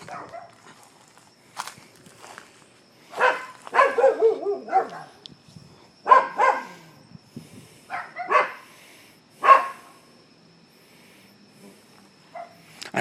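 Neighbours' dogs in Pinellas County bark in scattered bursts: several loud, sharp barks and yips, some in quick clusters, separated by quiet gaps, heard from a moderate distance, with whimpers and faint shuffling between.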